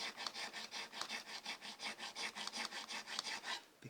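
Rhythmic rasping strokes of a file cutting down a bone guitar nut on a Telecaster-style guitar, steady back-and-forth rubs about every quarter second, close and fairly quiet with no talking.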